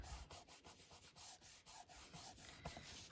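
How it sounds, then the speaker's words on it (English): Scrap tape border being rubbed down onto a paper card, heard as a faint, close series of quick repeated rubbing strokes in a steady back-and-forth rhythm with no talking. "good little back rub so that stays down"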